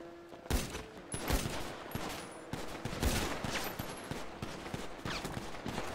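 Rapid bursts of gunfire in a 4v4 Arena Warriors match of the online shooter Prodigy, with repeated sharp shots clustering into fusillades throughout, loud and close, with no talking over them.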